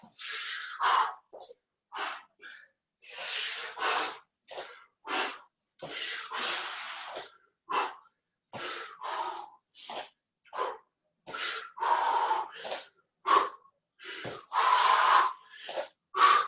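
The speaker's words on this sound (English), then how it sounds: "So yeah, practice that big breath." Deep breathing exercise during a full-body calisthenics workout: a long series of forceful, close breaths in and out, each a short airy burst separated by brief pauses, heard alone.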